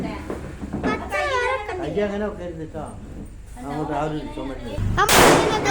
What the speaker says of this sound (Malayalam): പടക്കം പൊട്ടിച്ചിരിക്കുന്നു. ചെവി പൊട്ടിത്തെറിക്കുന്നു.